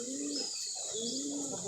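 A pigeon at a kept pigeon loft gives a cooing call to summon others: two low, rounded coo phrases, close and clear, with faint background hiss and no talking.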